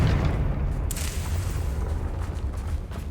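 A Confringo fire spell blasts in Hogwarts Legacy, one loud booming explosion that rolls on as a dense, rumbling roar for a few seconds, with a brief crackling burst near the start.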